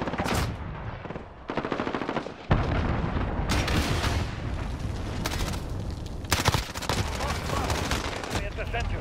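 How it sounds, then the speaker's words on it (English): Allied cruise missile strike in a multiplayer shooter video game: heavy sustained gunfire and explosive booms, loud and close, with a few dropouts and bursts, continuing throughout. "Allied cruise missile launched."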